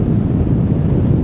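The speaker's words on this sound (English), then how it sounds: "A strong wind." A strong wind gusts on a mountain near Cerro Castillo in Patagonia, a loud, close, low rumbling buffet against the microphone with no other sounds.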